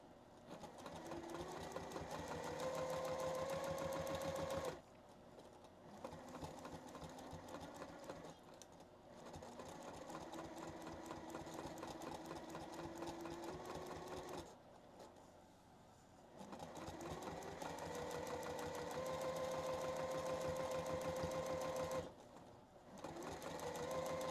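A sewing machine stitches pebble quilting in long continuous runs, a steady close mechanical whir with rising and falling motor pitch, broken by a few brief pauses, no talking.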